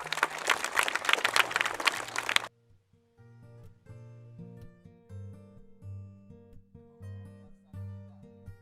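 Audience at a dam gathering clapping together, a dense burst of applause lasting about two seconds before it stops abruptly and gives way to music.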